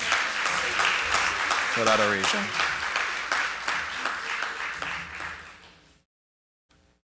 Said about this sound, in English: I think we can give another round of applause